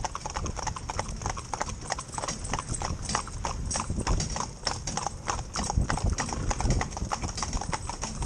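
Hooves of a four-in-hand carriage horse team clip-clopping steadily on a hard surface, close and rhythmic, with occasional faint voices.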